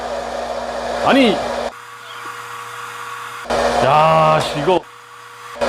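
A hot-air popcorn machine roasting coffee beans gives off a steady whirring blower hum that drops away and returns, close by, while people talk over it.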